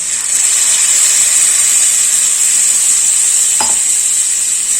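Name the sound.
ground masala paste being stir-fried in oil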